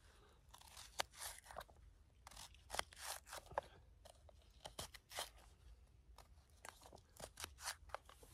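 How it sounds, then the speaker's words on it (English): An onion is chopped at a campsite, a quiet run of sharp crunchy knife cuts in irregular bursts with short pauses between them and no talking. "I'm just chopping up this onion."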